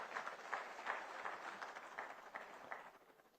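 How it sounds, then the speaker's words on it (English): Conference attendees in Banjul, The Gambia, applaud, with fairly light, moderately distant clapping that pulses in loose rhythmic bursts before tapering off over a few seconds. "Big round of applause."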